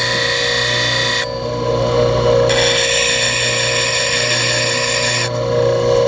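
A bench grinder with a Wolverine sharpening jig grinds a 3/8 inch lathe parting tool. The steady motor hum and loud rasping grind come in bursts as the steel is pressed to the wheel, heard close with no talking.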